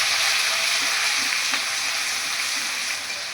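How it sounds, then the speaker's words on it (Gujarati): Green chili and crushed garlic sizzling in hot oil with cumin seeds for a Gujarati tuver totha, a loud continuous close sizzle with faint stirring scrapes. "જીરું ફૂટી દીધું, એના પછી નાખીશું લીલું મરચું અને લસણ ખાંડેલું નાખી દઈશું"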